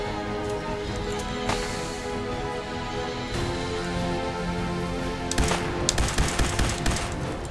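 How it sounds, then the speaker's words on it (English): Artillery strike in the video game Fallout 4 blasts into woodland as a dense, continuous barrage of explosions and rapid gunfire, loud and rumbling throughout, with heavier impacts crackling near the end and no talking. "have to call in artillery on this."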